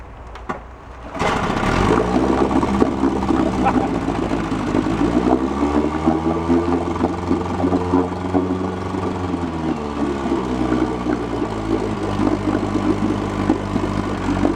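A 1956 Evinrude outboard motor cold-starts on the first pull after choking, catching after a second and running steadily with a rough, stuttering idle, loud and close, with no talk over it.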